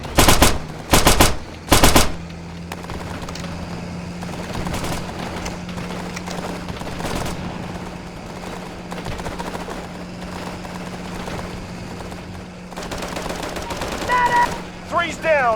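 Gunfire in the video game Operation Flashpoint: Dragon Rising: three sharp, loud automatic bursts open the scene, a steady low engine drone runs underneath with scattered distant shots, and more rapid bursts return near the end.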